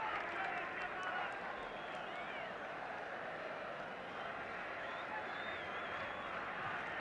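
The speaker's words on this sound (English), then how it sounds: "Tremendously noisy crowd." Dense, roaring football crowd at a Home International Championship match between Northern Ireland and England, a steady wall of noise with scattered cheers and shouts that never lets up for the whole stretch.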